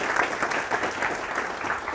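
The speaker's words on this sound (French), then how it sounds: "Vous pouvez les applaudir." Applause from the audience at the opening keynote of a DevFest developer conference in Paris, a full, even roar of clapping from a large crowd throughout.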